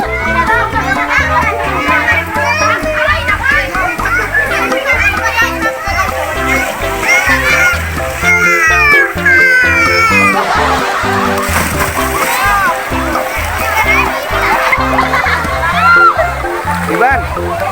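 Children play and splash in an outdoor water-park pool in Bogor, with a steady din of excited voices and repeated water splashes close by throughout.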